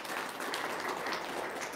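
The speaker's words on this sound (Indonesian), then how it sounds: "tepuk tangan dong" An audience at an Indonesian community enlightenment event claps together, a steady even wash of applause sustained for a couple of seconds without pause, moderately quiet and slightly distant.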